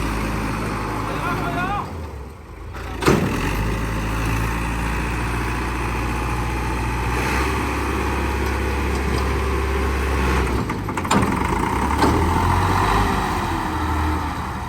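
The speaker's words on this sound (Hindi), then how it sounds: "ट्रैक्टर स्टार्ट हो गया था" A tractor engine fires up and settles into a steady, loud idle running close by, with a brief dip before it catches.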